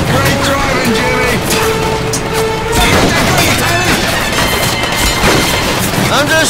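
Gunfire in the Medal of Honor Pacific Assault video game, a dense continuous barrage of shots and crashing impacts under shouting voices and a steady loud backdrop throughout.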